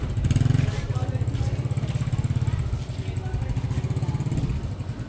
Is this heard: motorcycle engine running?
yes